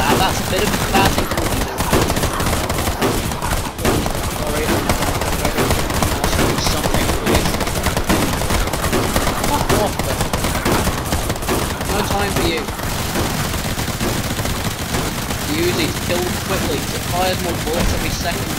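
Rapid, relentless automatic gunfire from the zombie shooter game Zombie Survivors hammers on loudly and without pause, with voices talking over the din throughout.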